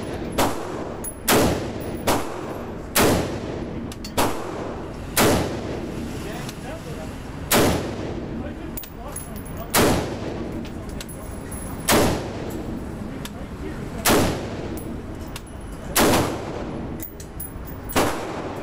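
Gunshots ring out one at a time at a steady pace of roughly one every one to two seconds. Each sharp crack is loud and decays quickly, with occasional voices between shots.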